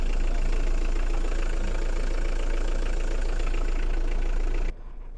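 A Hyundai Porter light truck's engine idles close by, a steady low rumble with a faint rhythmic knock, loud and unchanging until it cuts off abruptly near the end.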